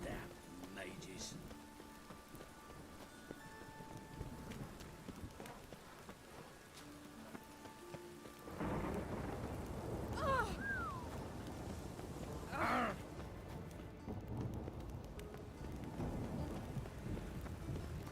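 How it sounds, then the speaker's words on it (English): Rain falling steadily in The Witcher 3, a soft continuous patter that grows heavier midway, with low distant thunder rumbling underneath and faint voices in the background. "Rain again."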